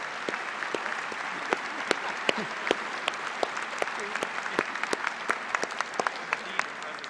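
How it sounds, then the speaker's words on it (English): Applause rolls through the hall at a university engineering commencement ceremony, a steady crowd clapping with sharp individual claps popping out over it, continuing throughout without any talk. "Please recognize these individuals with a round of applause."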